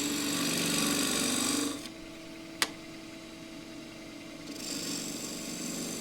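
A gouge cuts very green photinia on a wood lathe, a steady broadband shearing that stops abruptly, leaving a faint hum and one sharp click before the cutting resumes near the end.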